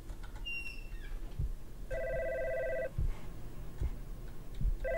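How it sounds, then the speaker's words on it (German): A phone rings in the God's Basement horror game, two bursts of electronic trilling separated by ambient game noise and faint footsteps, with a brief chirping tone at the start. "irgendwo bimmelt hier ein Telefon."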